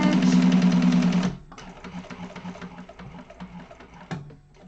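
Sewing machine chain stitching and top stitching a bag, a loud steady whirring run that stops abruptly, followed by quieter clicks and fabric handling with a short mechanical clunk near the end.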